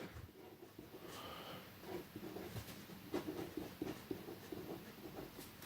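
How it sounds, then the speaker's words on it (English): A pen writes on a paper maths worksheet with faint, continuous scratching strokes and small taps, quiet and close, with no speech. "I'm going to just write on here"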